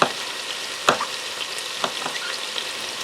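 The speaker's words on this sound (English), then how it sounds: "we're going to add the mushrooms and get them browned" Fresh mushrooms and carrots browning in a hot pan for a lemony lentil soup produce a close, continuous sizzle with a few sharp crackles and stirring scrapes, no voices.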